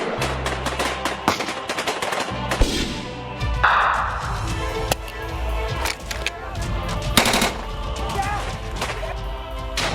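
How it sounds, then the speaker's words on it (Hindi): Gunfire during a security forces encounter with militants in Shopian, Kashmir: repeated sharp cracks and bursts fire throughout, some in rapid strings, loud and close over a rumbling, busy background. "हर तरफ गोलियों की तड़तड़ाहट"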